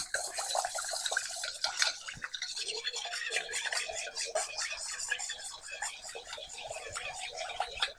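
A chopstick stirs stir-fry sauce in a bowl, giving a fast, steady scraping and clicking rattle close by that runs for several seconds.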